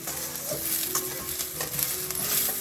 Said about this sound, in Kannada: ಇಲ್ಲಿ ಈರುಳ್ಳಿದು ಹಸಿ ವಾಸನೆ ಹೋಗೋತನ ಅಷ್ಟೇ ಹುರ್ಕೋಬೇಕು